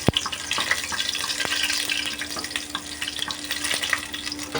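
Chopped garlic sizzles and crackles in a hot pan at the start of a chicken curry, with scattered pops and clicks and a steady frying hiss at moderate level.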